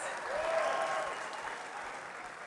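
Crowd at the SOLIDWORKS World 2019 general session in Dallas, Texas, cheers and applauds in a large hall, a steady roar of clapping with a few whoops rising through it.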